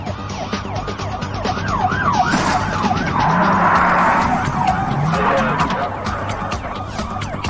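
Police car pursuing a speeding car on an icy road after exiting an interstate, with a wailing siren sweeping up and down over loud engine roar and a surge of tire skidding mid-clip.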